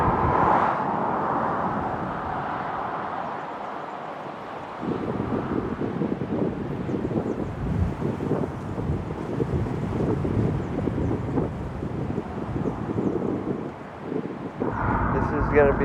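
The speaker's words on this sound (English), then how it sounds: "Wind, my nemesis, my new nemesis." Strong wind buffets the microphone on a narrow road along the Big Sur coast during a long-distance tour, a steady roaring rush that swells and eases throughout.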